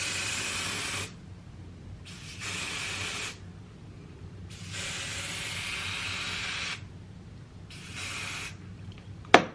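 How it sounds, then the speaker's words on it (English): EBIN Wonder Lace Bond spray misted around a wig hairline, heard as four or five sustained hissing bursts of one to two seconds each, separated by short pauses, close and fairly loud, ending with a sharp click. "I'm going to take my EBIN Wonder Lace Bond and I'm going to spray this all around the"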